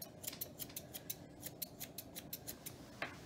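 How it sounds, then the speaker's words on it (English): Steady rhythmic snips of grooming scissors trimming an English Springer Spaniel's coat during a show groom of the tail, feet and back, about a dozen crisp close cuts alone without talk. "So first I'm gonna work on just trimming this up just a little bit."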